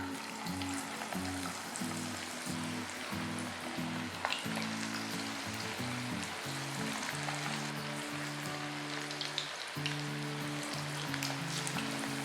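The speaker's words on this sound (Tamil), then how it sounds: "இப்போ வந்து இதை நல்லா டீப் ஃப்ரை பண்ணி நல்லா மொறுமொறுன்ட்டு எடுக்கணும்" Battered cauliflower for gobi 65 deep-fries in oil with a continuous crackling sizzle and scattered pops, under a low, steady tonal hum.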